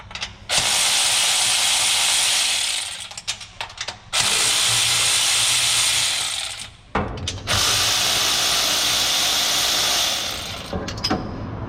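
A 1/2 inch ratchet being turned on a vehicle part, loud rapid clicking pawl in three long sustained runs separated by brief pauses, close and with no talk.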